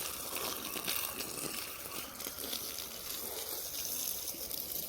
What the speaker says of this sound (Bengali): জল দিচ্ছি আমি গাছে।